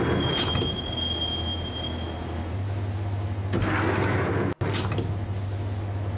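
Subway train riding in the video game Max Payne, a loud close rumble with a thin high wheel squeal early on, a heavier surge of rail noise midway and a brief dropout before the rolling continues.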